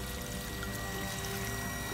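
Water runs steadily from a household tap fed by a Sanyo PH137AC water pump, a continuous even rush of flow without pauses or voices.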